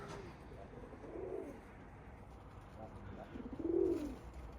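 Pigeons cooing on a rooftop, two soft rolling coos a few seconds apart, faint and somewhat distant over a quiet outdoor background.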